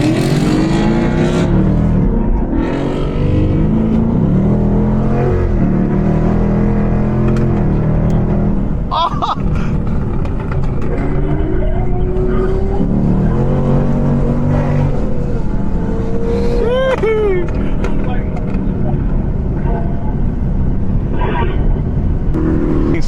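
A turbocharged car engine revs loudly past on the Pacific Coast Highway among cruising traffic, a dense roaring drone with rising rev sweeps, while people talk over it.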